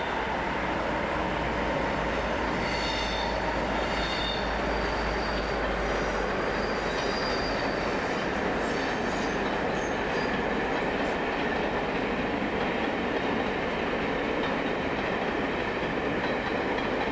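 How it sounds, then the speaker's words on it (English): A diesel-hauled Virgin CrossCountry train passes close by in the early 2000s with a continuous loud rumble of wheels and engine, plus high metallic wheel squeal, heard steadily throughout with no talk. "it's the few Virgin cross-country services that provide an opportunity to see diesel haulage"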